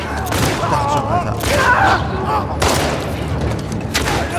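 Loud bursts of gunfire crack out at intervals over a noisy rumbling background, with a strained voice groaning between shots, in the video game The Last of Us Part II.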